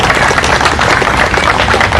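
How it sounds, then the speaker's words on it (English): Outdoor rally crowd at a march to defend the post office, clapping loudly and continuously, a dense close patter of many hands with scattered cheers mixed in. "Give yourselves a round of applause."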